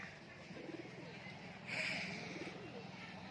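Giribaz tumbler pigeons coo softly in a low, rolling rhythm, fairly faint and close, with a slight swell midway.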